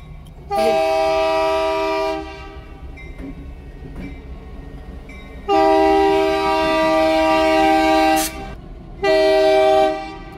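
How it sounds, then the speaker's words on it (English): A train horn blares in three long, loud blasts with rumbling rail noise between them, close by and without any talking. "Here comes that train again."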